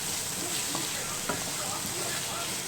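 A cabbage fry with garam masala being stirred in a pan on a stove, a steady close sizzle with light scraping and stirring clicks throughout.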